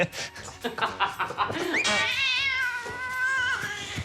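Cat meowing close by, a long drawn-out wavering meow following some brief snickering, laughter-like vocal sounds.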